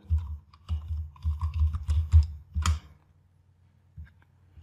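Quick bursts of typing on a computer keyboard, close clicks clustered for about three seconds, then near silence with a couple of stray taps.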